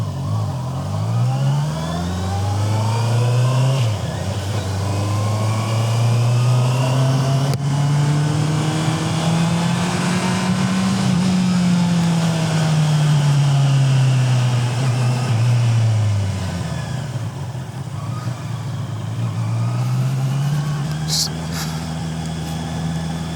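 A Honda CBR650R motorcycle ridden through slightly foggy Bangalore streets at 2:30 a.m., its engine droning close and continuous as the revs rise and fall smoothly through gear changes.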